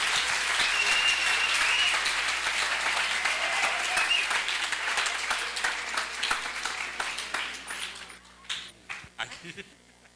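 A large audience applauds loudly at a conference talk, a dense wash of clapping that thins out and fades into scattered individual claps over about ten seconds.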